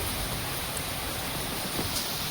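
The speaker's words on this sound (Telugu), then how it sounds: "ఇంకా తర్వాత వర్షం మళ్ళీ స్టార్ట్ అయిపోయింది" Heavy rain falls steadily, a dense even roar of broadband hiss at moderate level with no gaps or talk.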